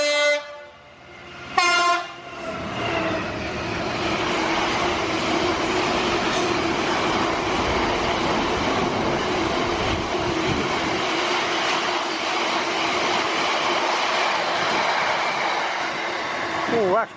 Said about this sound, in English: There we are, we're going to start off with a freight.